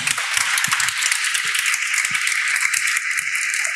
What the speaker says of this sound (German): Ein Applaus auch an Detailing.